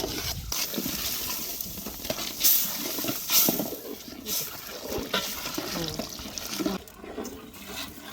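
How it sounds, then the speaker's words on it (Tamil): Hot water being poured into a pan while making kesari in a home kitchen, a soft steady trickle and splash lasting several seconds with faint voices in the background. "சட்டியில் ஊற்ற வச்சு கொஞ்சம் தண்ணி ஊற்றணும்"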